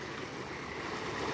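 Steady broadband rush of flowing water seen from above at a scenic spot, a continuous even wash with no distinct splashes, heard alone without voices.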